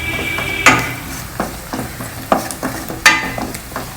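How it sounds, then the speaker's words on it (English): Pasta being stirred with butter and onions in a pan: scraping and clacking of a utensil against the pan comes in irregular knocks over a soft sizzle, close by with no talking. "Now mix this also well with this butter and onions."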